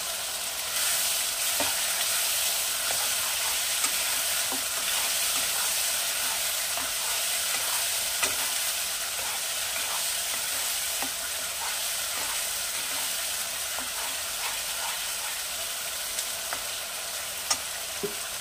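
Bengali masala with slit green chillies sautéing in a pan for boal fish curry, a constant bright close sizzle with occasional faint clicks of a spatula, unbroken and fairly loud throughout.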